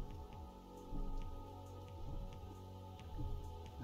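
Steady video game rain patters on a surface, a continuous soft hiss with scattered drops, fairly quiet and uninterrupted.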